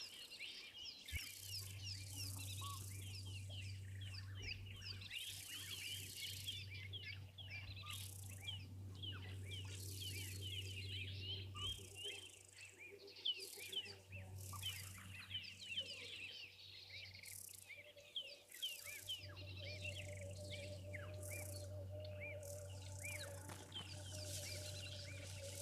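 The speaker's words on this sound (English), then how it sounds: "You can hear plenty of weavers chattering away in the background." Weaver birds chatter busily around a wild waterhole while building nests, a dense, continuous mass of chirps and harsh calls mixed with insect buzzing, with a steady low hum underneath and no talking.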